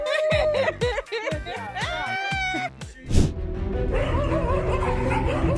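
Dogs ambush a kitten with a burst of sharp, repeated yips and barks, followed by whining, higher yelps and a confused mix of barking and commotion that continues to the end.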